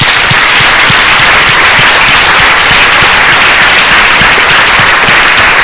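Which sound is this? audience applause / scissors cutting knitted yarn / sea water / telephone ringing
audience applause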